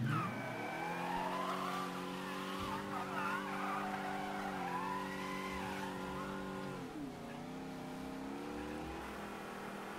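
A car in the video game Mafia 3 revs hard and accelerates with rising engine tones, tires squealing in a long skid; steady and loud throughout, a gear shift dipping the pitch near the end, no voices.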